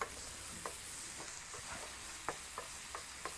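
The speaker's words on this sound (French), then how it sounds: "on laisse fondre le sucre et former un petit caramel au beurre" Sugar melts into butter in a pan to form a small caramel, a quiet steady sizzle broken by light scattered ticks of stirring, fairly faint and without voices.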